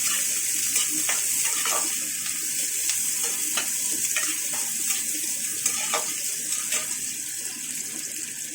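Black cumin seeds and onion fry in hot oil in a pan, giving a steady bright hiss with small crackles and a few scrapes of stirring throughout.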